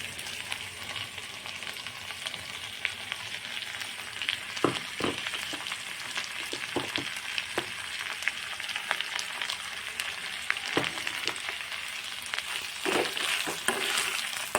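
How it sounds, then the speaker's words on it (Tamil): Ground peanuts are mixed into cooked snake gourd stir-fry in a hot pan, with a steady soft sizzle and occasional scraping strokes of a spatula, close and fairly quiet, without speech. "இந்த வேலையில் நம்ம அரைச்சி வச்ச வேர்க்கடலையை மிக்ஸ் பண்ணிக்கலாம்"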